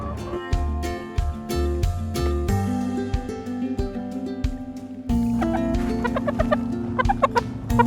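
Hens cluck and murmur nearby in a backyard chicken run in winter, giving overlapping short calls and tonal croons, with a few sharper clucks rising toward the end.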